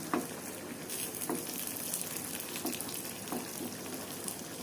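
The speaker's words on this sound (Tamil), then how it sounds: "இஞ்சி பூண்டு சோம்பு பச்சை மிளகாய் இதை வந்து இப்போ தாளிக்கிறேன்" Ginger, garlic, fennel, green chillies and curry leaves crackle and sizzle softly in hot oil, a steady frying hiss punctuated by small pops, fairly faint.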